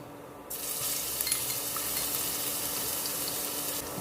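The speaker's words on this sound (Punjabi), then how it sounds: "ਲਸਣ ਹਲਕਾ ਜਿਹਾ ਭੁੱਜ ਗਿਆ ਵਾ" Garlic and green chili paste with cumin and asafoetida sizzles steadily in hot oil, starting abruptly after a brief quiet moment and holding a dense, loud crackling hiss with no talk.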